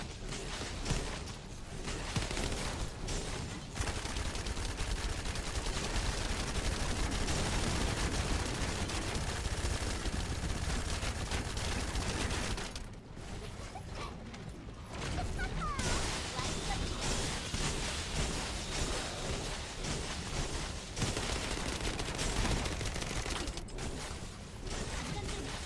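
Nonstop gunfire in The First Descendant, dense rapid shots and crashes layered over a loud game mix for over twenty seconds with a short lull midway, while a voice talks through it.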